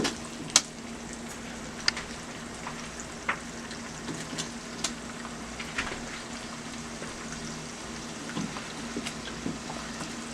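Potatoes frying in oil in a skillet on a high stove, a continuous crackling sizzle with scattered sharp pops and spatters, close and steady.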